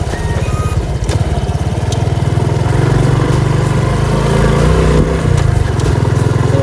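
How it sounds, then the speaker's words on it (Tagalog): A Honda XRM 125 Fi motorcycle is ridden with a steady, loud buzzing engine drone and a rapid low exhaust pulse, recorded close to the machine and holding throughout. "Take note, ang gamit po natin ay Honda XRM 125 Fi."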